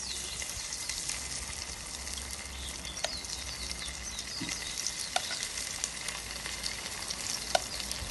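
Chicken pieces fry in ghee over a charcoal stove, giving a steady, close sizzle with a few light stirring clicks and scrapes, and no talk over it.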